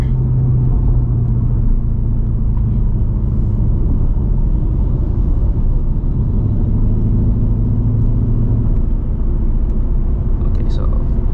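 A Ford Mustang GT S650 V8 sits in drag mode, its engine a steady low rumble that stays close and constant throughout, with small swells in pitch.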